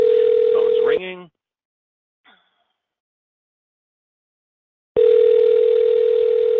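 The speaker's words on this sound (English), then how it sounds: "Phone's ringing." Outgoing phone call ringback tone placed through a PhoneBurner dialer: a steady buzzing ring burst, then a silent gap with a tiny click, then a second identical ring, loud and clear with nothing else around it.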